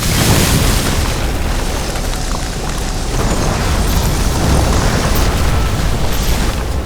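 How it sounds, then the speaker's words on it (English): Explosion in the video game Nobody Wants to Die, set off after a flooded transformer caught fire, heard as a continuous loud, dense roaring rumble with deep low-end and crackling texture that persists throughout without a clear single onset. "That's what caused the explosion."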